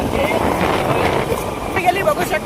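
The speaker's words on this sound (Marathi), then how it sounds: "थंड वारा सुटलेला आहे" Cold wind rushes steadily past during a slow ride, producing a constant broadband roar of buffeting with some vehicle noise underneath and people talking over it.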